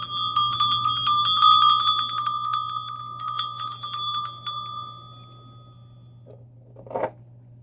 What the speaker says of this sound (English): I'm going to ring the bell to clear some energy.